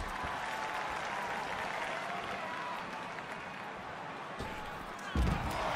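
Applause and crowd noise fill a wrestling arena in WWE 2K24, a steady wash of clapping held at a moderate distance, with a brief louder thump near the end.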